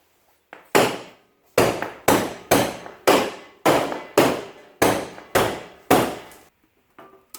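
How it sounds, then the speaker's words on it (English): A hammer strikes a junk truck in about ten sharp, loud metallic blows at a steady, roughly once-per-second rhythm, each ringing out briefly before the next, with a couple of lighter taps at the end. "Hammer."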